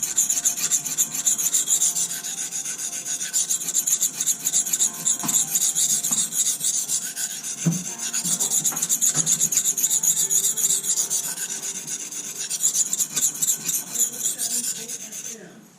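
A knife blade is stroked steadily on a sharpening stone, making a continuous rhythmic rasping scrape that lasts throughout, close up with no talking.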